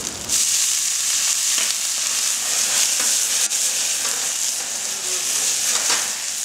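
Loud, steady sizzle of stir-frying in a wok, with rice wine splashed into the pan for a Chinese dish of steamed sea cucumbers, plus occasional scraping stirs. The frying hiss runs unbroken throughout and nobody speaks.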